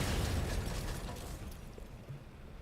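A large explosion in the Watch Dogs video game, a loud broad rumbling blast at the start that slowly decays into a crackling, debris-filled roar over a few seconds, with no talk.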